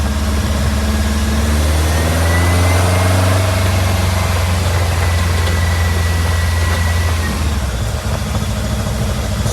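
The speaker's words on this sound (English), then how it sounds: "For some reason it's revving up too high. It's not going back to idle." A VW Beetle engine revs high and steady, a continuous loud drone that stays elevated rather than dropping back to idle.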